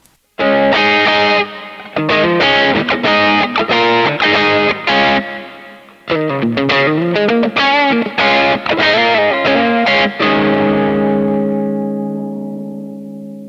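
A distorted electric guitar riff played through a reverb effect turned up to 160, loud chords with a long washy tail that rings out and slowly fades at the end.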